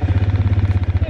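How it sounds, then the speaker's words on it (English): An engine turns over and settles into a steady, fast idle: a loud, evenly pulsing low throb that repeats in quick rhythm throughout, close by and alone. "We're going to start the engine."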